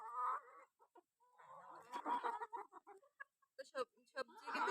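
Chickens cluck at close range while feeding, a stuttering run of short clucks and squawky calls broken by brief silences, with a louder flurry at the end.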